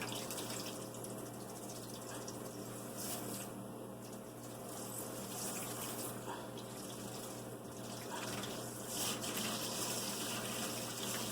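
A makeup brush-cleaning tool splashes and churns in water in a sink, a continuous steady wash of water with a faint electric hum beneath.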